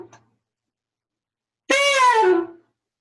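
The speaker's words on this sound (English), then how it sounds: "So a short fall is going to sound like this." A single short saxophone fall, starting on a B and bending quickly downward as the fingers run down the horn; one clean note of about a second, alone after silence.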